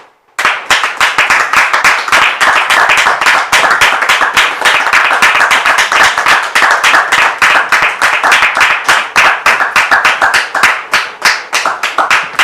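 Audience applause welcoming a pastor, loud close-up clapping starting abruptly and continuing with quick, uneven hand claps for a long stretch.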